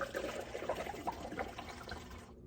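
Liquid Dawn dish soap refill pours steadily into a bottle at a kitchen sink, a continuous close trickle and splash lasting about two seconds before cutting off.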